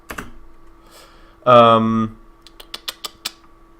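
A brief voiced sound rises over a low hum, then a quick run of crisp, close clicks follows as someone types on a computer keyboard prone to random double spaces, each keystroke distinct and evenly spaced.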